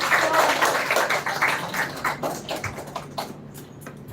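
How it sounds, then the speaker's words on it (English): Children's audience at a school round of a literature festival clapping together, a dense patter of many hands that starts full and thins out over a few seconds into scattered claps. "Can we give a big round of applause to her?"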